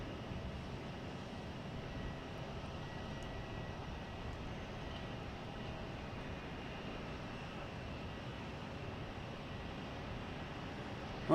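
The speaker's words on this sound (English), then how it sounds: "There's now a Delta taking off in its place, heading to Philadelphia in E-170." A Delta Embraer E-170 jet takes off at Boston Logan Airport, its engines a steady broad roar heard from a distance and holding even throughout.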